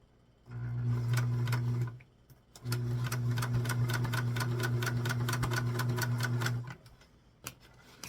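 A sewing machine backstitches the seam of a small 4-inch doll dress, running in two steady, close bursts of rapid stitching with a short pause between, and no talking over it.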